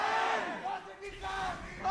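An esports arena crowd cheering for Origen at a League of Legends playoff semifinal, a loud sustained roar of many voices with rising and falling shouts, filling the whole moment.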